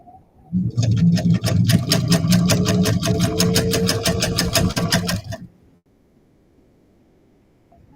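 A sewing machine runs in one continuous rapid, rhythmic stitching burst lasting about five seconds, loud and close, then stops into near silence.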